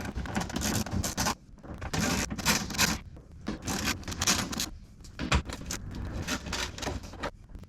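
A 10mm socket wrench loosening bolts on a Toyota 4Runner during a fog light install: close, busy metallic clicking and scraping in quick bursts, with brief pauses between runs.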